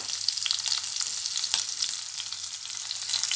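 Curry leaves, ajwain and green chillies fry in hot oil for paneer bhurji fried rice, a close, steady crackling sizzle with scattered pops and light stirring, no voices.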